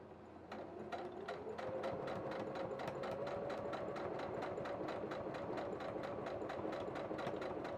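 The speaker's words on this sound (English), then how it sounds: "we'll do one line of sewing on the end here, and then we'll reverse it once we're done with that" A sewing machine stitching a strap of fake leather and broadcloth, its rapid even mechanical chatter starting after a brief pause and running continuously at close range, with no talking.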